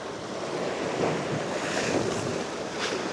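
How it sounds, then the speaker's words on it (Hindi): Sea water surges in under an undercut cliff at a fishermen's village on the edge of Sindh, a continuous roaring wash of surf mixed with gusty wind buffeting the microphone. "पानी यहाँ बहुत तेज़ी के साथ अंदर दाखिल हो रहा है।"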